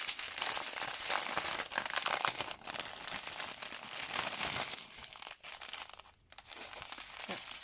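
Diamond painting colour packets being unpacked from crinkly plastic packaging, continuous close crinkling and rustling with a few brief pauses, no talking.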